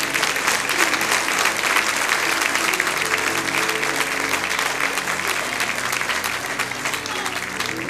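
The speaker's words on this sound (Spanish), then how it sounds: "Un aplauso para los hermanos." A church congregation at a Sunday devotional in Santiago, Chile, applauds loudly and continuously, a dense steady clatter of clapping hands with a low murmur beneath it throughout.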